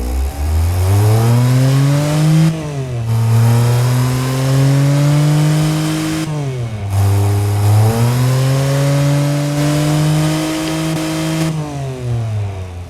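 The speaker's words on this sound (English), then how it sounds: "Let's start with the inline 3 and hear how does it sound on standard." A small inline three-cylinder car engine in the game Automation revs loudly and up close, its pitch climbing and dropping back through several rev cycles with no talking.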